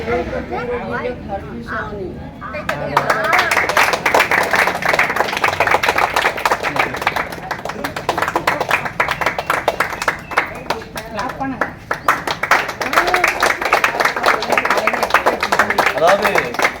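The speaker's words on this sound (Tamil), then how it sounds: "நம்ம ஜோசப் ஐயாவிற்கு ஒரு கைத்தட்டி" Audience clapping at a birthday celebration in an elder care home, a sustained burst of many hands that starts after a few seconds of talk and continues steadily, with voices mixed in throughout.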